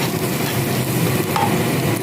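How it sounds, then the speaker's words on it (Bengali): Onions frying with salt in a pan for a jackfruit kofta curry, giving a steady close sizzle with light stirring scrapes throughout, no voices. "পেঁয়াজটাকে ভেজে নেব"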